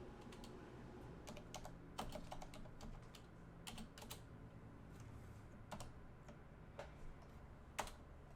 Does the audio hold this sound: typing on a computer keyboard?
yes